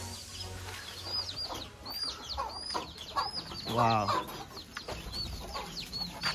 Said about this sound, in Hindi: यहाँ पे देख सकते हैं इतना सारा मुर्गी पाल के रखा है